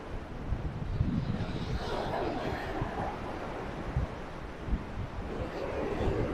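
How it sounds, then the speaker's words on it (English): Gusty wind at Lady's Mile Beach in Limassol, Cyprus, a steady rushing buffet against the microphone with low rumbling swells, and faint voices in the background. "You see that wind constantly is changing direction"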